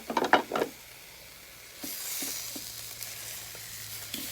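Pork fries in oil in a pan for homemade burgers. A few quick utensil knocks come first, then a soft, steady sizzle with occasional small pops, and no talking.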